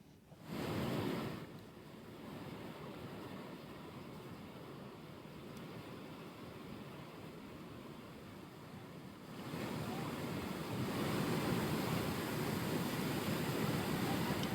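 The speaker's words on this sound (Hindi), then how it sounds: "किस तरीके से तेज़ बहाव के बीच ये वैन फंस गई है स्कूली छात्रों की" Fast-flowing floodwater surges around a school van stuck in the current at Kelwara, Rajsamand, Rajasthan, a continuous broadband rush of water and wind that swells louder toward the end.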